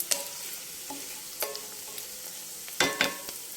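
Onions frying in a pan until reddish and soft, with a low sizzle broken by several sharp scrapes of a spatula stirring against the pan, close and clear, no voices.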